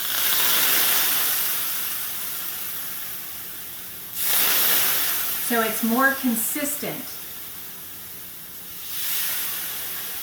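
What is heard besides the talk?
steam hissing from espresso machine steam head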